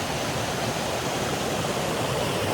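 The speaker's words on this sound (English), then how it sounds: "Water's flowing really nice" Water at Comer's Creek Falls rushes continuously, a close, full roar of falling and flowing creek water, alone without speech.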